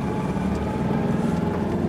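A 4x4 engine revs during a downshift, producing a steady loud low drone with a rough pulsing throb through the short span. There is no talk.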